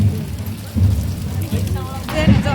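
Rain falls steadily during Muharram mourning observances in a village, a close, even patter with low rumbles, while people talk faintly in the background.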